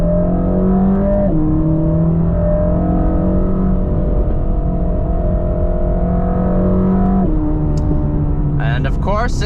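A Mercedes-AMG GT Black Series in race mode drones loudly as its engine pulls through gears, with pitch rising and stepping down at shifts, then a sharper burst of revving near the end.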